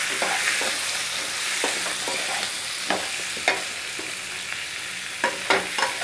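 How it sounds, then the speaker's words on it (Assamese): Chopped vegetables frying in a pressure cooker for khichdi are stirred with a utensil, giving scraping knocks at irregular intervals over a steady background sizzle. "আৰু এতিয়া ভালদৰে লৰাই দিম।"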